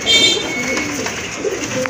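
Pigeons at a pigeon farm coo in soft, repeated throaty calls close by, over a continuous background of birds and low room noise.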